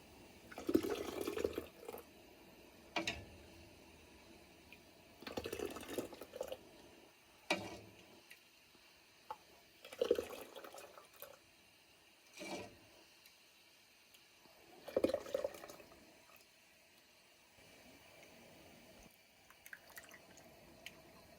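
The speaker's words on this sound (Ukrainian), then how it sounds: "У слоєчки я наливаю киплячий сік" Boiling pumpkin-apple juice pours in repeated short bursts about every two and a half seconds, splashing and trickling into jars, with quiet pauses between pours.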